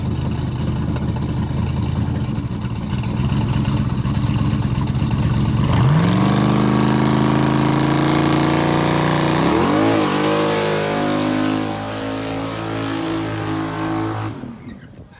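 A car burnout with a hydraulic roller LS engine of 2500+ hp, revving hard and holding loud sustained high revs with sweeping pitch rises, close and continuous, then cutting off near the end.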